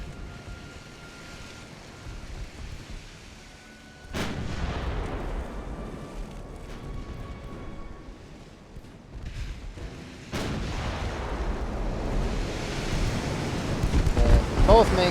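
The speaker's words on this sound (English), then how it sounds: "Both main guns should be able to hit that thing now." Heavy naval main guns from an 1890s-era warship in Ultimate Admiral: Dreadnoughts fire in two loud booming salvos several seconds apart, each a sharp broadband blast over a constant ocean-like rumble.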